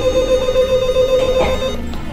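A telephone bell rings steadily and loudly, a continuous electronic trill filling the short stretch with no talking over it.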